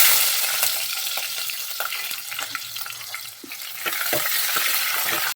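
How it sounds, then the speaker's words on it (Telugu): Coarsely crushed garlic and onion frying in a pan, a close sizzle broken by frequent scraping stirs and light clinks of the utensil. "తెల్లగడ్డలు కచ్చా పచ్చా దంచుకుందాం. ఉల్లిపాయ వేసుకుందాం."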